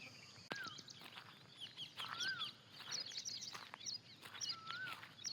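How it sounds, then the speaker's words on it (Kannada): An Asian koel gives repeated rising calls amid the busy chirping and twittering of other birds outdoors, faint and fairly distant with sharp clicks in between. "ನೋಡಿ, ಕೋಗಿಲೆ ಕೂಗು,"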